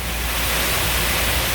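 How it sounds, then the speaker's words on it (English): Craig Hall Waterfall in Tobago, running full, gives a loud, unbroken broadband roar heard up close and alone. "Our Highland waterfall, and it's full too today."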